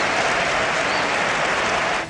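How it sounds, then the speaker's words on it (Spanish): A big stadium crowd at the Bernabéu applauds during a football match, a dense, steady wash of clapping that holds for about two seconds. "pero la ovación del Bernabéu"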